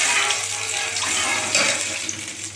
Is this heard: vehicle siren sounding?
no